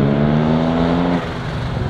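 A 650cc single-rotor rotary speedster car roars past on the road, its loud, buzzing engine note holding steady and then dropping sharply in pitch and level as it goes by.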